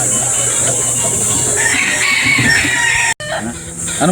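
Roosters crow and chickens cluck at a breeder chicken farm, a loud, busy mix of overlapping crows and clucks close by with a brief sharp dropout near the end.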